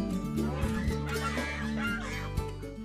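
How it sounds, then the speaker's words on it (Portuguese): Geese and chickens on a small farm plot in Lins, Brazil, make a steady mix of honks and clucks that fills the whole stretch, with a few sharper calls near the end. "É hora de tratar dos gansos e das galinhas"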